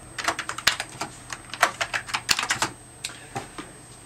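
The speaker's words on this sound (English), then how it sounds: "So the keyboard works in the normal way, you just type." Crisp, rapid typing on a Keymonster HiVis computer keyboard, a close, busy run of key clicks with brief pauses near the end and no talking.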